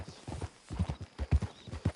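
Horse hooves clip-clop at a steady walking pace in the video game Red Dead Redemption 2, close and distinct, with a faint voice briefly present underneath.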